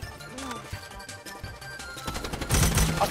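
Gunfire in the anime-style shooter Strinova: scattered in-game shots early on, then a loud, dense volley of rapid fire over the last second, set against game music and effects.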